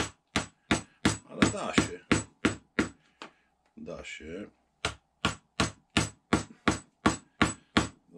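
Sharp, regular mallet strikes on a chisel cutting wood for a nest box, a steady rhythm of knocks with a brief scraping pause and a few spoken words.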